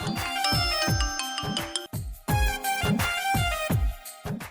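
A phone ringtone plays loudly and close, a bright repeating melodic tone pattern with a brief gap midway.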